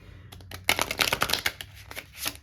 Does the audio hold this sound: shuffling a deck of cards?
yes